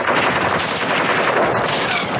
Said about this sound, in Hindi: अपनी राइफल से तुरंत फायरिंग ओपन कर देते हैं।